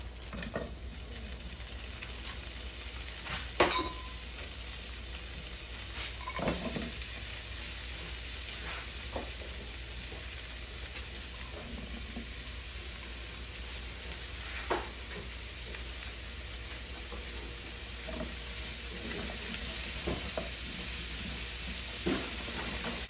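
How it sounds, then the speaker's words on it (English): Vegetables sizzle in a pan that chicken was just cooked in, a steady frying hiss with a scattering of faint taps and clinks over a long stretch, and no one speaks. "In the same pan that you cook your meat in, I'm going to throw in the vegetables."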